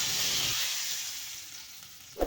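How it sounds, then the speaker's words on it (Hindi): Hot tadka with mustard seeds hits chutney in a bowl, giving a bright hissing sizzle that fades over a couple of seconds, followed by a short clink near the end. "अब हम लगाएंगे तड़का अपनी मज़ेदार सी चटनी को"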